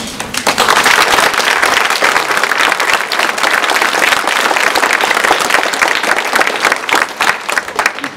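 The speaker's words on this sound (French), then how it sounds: "ils méritent un tonnerre d'applaudissements" A crowd at an outdoor garden-naming ceremony breaks into loud, sustained applause, dense clapping that swells quickly and holds for several seconds.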